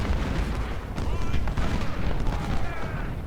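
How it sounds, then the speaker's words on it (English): Artillery fire in the Ultimate General: Civil War video game, heavy cannon volleys and booms rumbling repeatedly through the battle din, with someone talking over them. "Heavy artillery, please focus on Hoxton."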